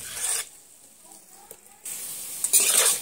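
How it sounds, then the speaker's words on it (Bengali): Steamed mankachu taro pieces fry in oil over low to medium heat, stirred in bursts: sizzling and scraping swells, drops away to near quiet, then returns louder. "এইভাবে করে সময় নিয়ে আমি মানকচুগুলো একটু লো টু মিডিয়ামে আঁচে দিয়ে ভেজে নিচ্ছি।"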